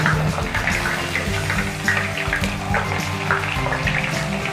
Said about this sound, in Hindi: बहुत ज़्यादा छींटे आती हैं, बहुत ज़्यादा बबल्स आते हैं, वो इसलिए क्योंकि दाल के अंदर पानी होता है,